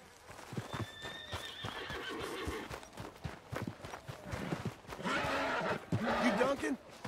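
A horse whinnies and its hooves clip-clop in steady, close steps, while people talk over the sounds; two louder neighing bursts stand out near the end.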